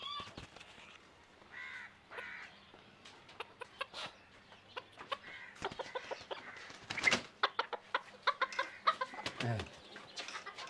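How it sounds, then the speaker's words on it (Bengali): A small ornamental chicken with a peacock-like tail clucks and chirps indoors, a string of short close calls of varying loudness with quiet pauses between them, and brief human sounds now and then. "এখন কুকুরু কুকুরু করতেছে, এই খুশি"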